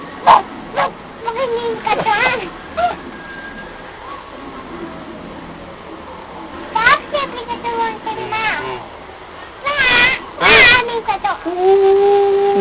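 A small child imitates a dog's bark with several short, loud vocal yaps in bursts, alternating with an adult's and the child's chatter nearby.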